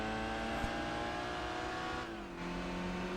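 In the Gran Turismo 4 video game, a race car engine revs steadily at the start line, a loud sustained drone that dips briefly before holding again.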